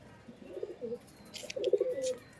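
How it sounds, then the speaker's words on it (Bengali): Pigeons, high-flying breed, coo softly in two low, throaty bursts, the second longer and fuller, with some faint rustling in the background. "এটা দেখুন টপ কোয়ালিটির আরও একটা পায়রা"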